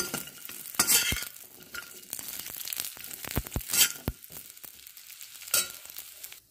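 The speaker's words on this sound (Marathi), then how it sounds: "मी थोडंसं तूप टाकले आणि खारका पहिले भाजून घेते।" Dry dates roasting in a little ghee in a pan, heard as a soft sizzle broken by repeated scraping and stirring strokes and occasional knocks of the spatula, close and moderately loud, with no talking.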